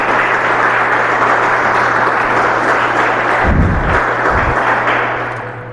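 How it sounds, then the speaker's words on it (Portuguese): A Baptist church congregation claps for Jesus during a service, a thick continuous wash of hands over a steady low electrical hum, with a couple of dull thumps partway through before it begins to fade. "Então vamos aplaudir a Jesus."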